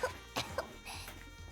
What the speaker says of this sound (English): I could swear she's forcing that cough.